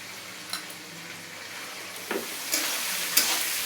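Chicken pieces fry in white oil with chopped garlic for egg chicken chowmein, giving a steady, moderately quiet sizzle with occasional sharper crackles and stirring clatters, no voices.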